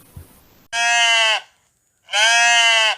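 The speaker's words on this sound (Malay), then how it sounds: "Itu adalah kambing biri-biri." A sheep bleats twice: two loud, long, nasal calls separated by a short silence, played back during a classroom animal-sound guessing game, with no talk over them.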